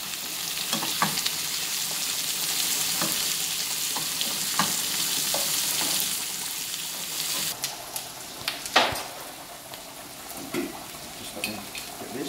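Onion frying in a pan for Indian food makes a loud, close, continuous sizzle. A spoon scrapes and stirs through it at irregular intervals.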